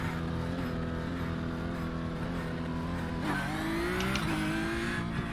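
A race car in the iRacing simulator circles Monza's junior layout with a steady, loud engine drone that shifts pitch as it changes gear and accelerates, with brief tire squeal under the continuous roar.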